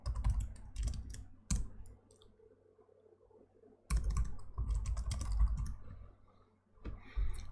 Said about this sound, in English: now that we're typing the OC-get-all command